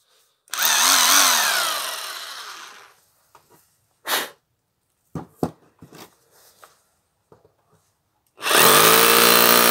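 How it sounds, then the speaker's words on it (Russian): A Hyundai H900 rotary hammer in hammer-drill mode runs loud with harsh rattling bursts for a couple of seconds, then scattered clicks and knocks, before the rattling roars again near the end. "Теперь сверление с ударом."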